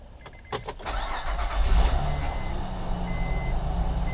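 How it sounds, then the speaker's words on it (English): An engine cranks with a few sharp clicks, then catches and settles into a steady, loud low rumble as it idles. "Now I'm going to start the engine"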